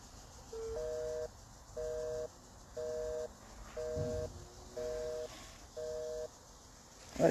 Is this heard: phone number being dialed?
yes